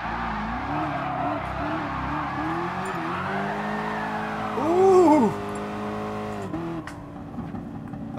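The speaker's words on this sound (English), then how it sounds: "This man's reverse drifting." Cars drifting on the Tokyo Expressway in Gran Turismo Sport, with a 707 hp Hellcat among them, giving a steady engine drone and rising, wavering tire squeals that swell loudest midway, then fade back to engine noise.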